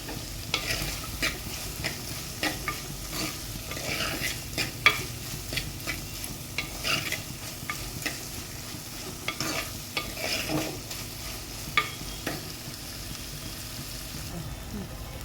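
Chopped onions with rock salt fry in a pan, sizzling steadily while a spoon scrapes and stirs in repeated clinks and scuffs, close and moderately loud, with occasional voice in the background.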